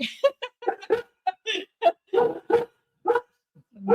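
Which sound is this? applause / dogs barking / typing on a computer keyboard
dogs barking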